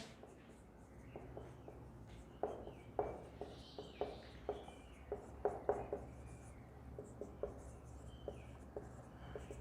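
Chalk or marker scratching across a board in a physics class, a series of short irregular scraping strokes growing louder in the middle, with faint background hum and no clear speech.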